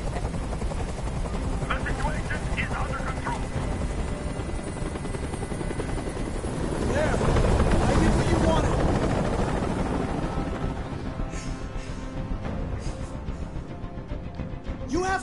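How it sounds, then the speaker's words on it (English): A helicopter from the video game Detroit: Become Human hovers with a steady, loud rotor drone throughout, swelling louder midway, while voices talk over it. "Tell that helicopter to get out of here."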